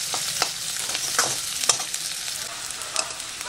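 Chopped onions sizzle in a pan of hot oil for red lentil dal, a close, steady crackle broken by a few sharp scrapes and clicks of a stirring spoon.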